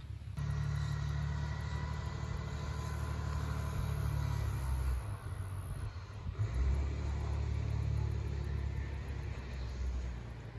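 Heavy diesel truck rumbling steadily close by as it pulls a big load, a deep continuous engine drone with a brief dip around the middle, no talking.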